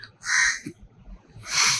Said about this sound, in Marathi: कावळा का ओरडते बाबा?